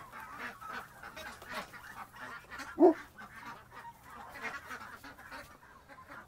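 Ducks in a pen at night calling in a brief panic, with faint scattered squawks and one louder honking call standing out over a low steady hum.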